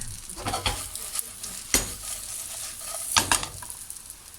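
Mullet pieces with turmeric fry in foaming butter, a close steady sizzle broken by several sharp scraping stirs of a utensil against the pan.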